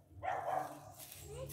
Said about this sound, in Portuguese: O cachorro tá reclamando lá.